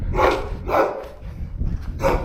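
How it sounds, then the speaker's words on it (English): A guard dog on a farm along a rural walking route barks several times in loud, close bursts spaced about a second apart, with no talking. "I think it's a guard dog."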